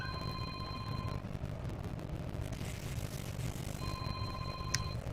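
A telephone rings in two bursts of steady electronic tones, one at the start and another near the end, over a constant low background hum, with no talking.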